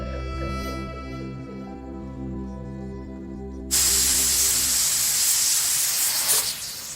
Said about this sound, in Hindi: मुझसे अच्छा तो ये प्रेशर कुकर है मालती। गुबार भर जाता है तो कम से कम चिल्ला तो लेता है।